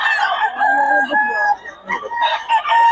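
A Boston Sweater gamecock crows loudly and close, a drawn-out call, with crowd noise faint in the background.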